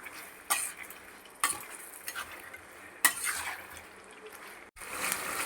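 Mutton ghee roast with tomato sauce being stirred in a pan: a steady wet scrape and sizzle, with a few sharper clinks of the spoon against the metal at uneven intervals. No one talks.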